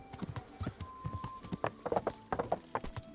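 Horse hooves in the video game Kingdom Come: Deliverance clip-clop in a quick, uneven trotting rhythm, fairly faint, with a brief whinny-like sound and no talking over it.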